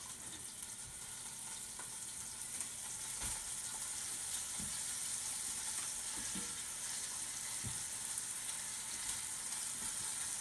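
Venison shanks fry in hot oil with a strong, continuous sizzle and crackle, broken now and then by a few sharp clicks and pops. The frying sounds close and carries on with no talking.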